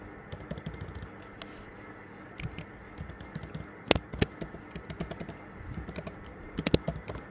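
HTML code being typed on a computer keyboard: scattered, fairly quiet key taps in uneven clusters, with a few sharper louder clacks, over a low background hum and no speech.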